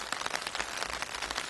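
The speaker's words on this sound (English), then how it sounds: "as you can probably hear, it's raining." Steady rain falls outdoors and patters densely on surfaces nearby, a continuous hiss with no talking.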